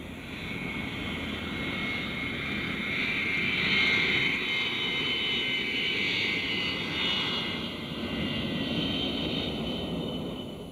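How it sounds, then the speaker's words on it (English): Giant jet airliners taking off at an airport in 1965, heard as a steady, loud broadband roar of engines that swells slightly and then holds, with no talk over it. "watch the giant jets taking off for destinations all over the world"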